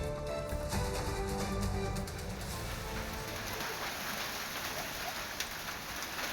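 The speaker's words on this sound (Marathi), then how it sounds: "अनेक ठिकाणी जोरदार गारपीट झालेली आहे" Heavy unseasonal rain mixed with hail beats steadily on surfaces outdoors. The dense, even hiss of the downpour continues for about six seconds, with no voices.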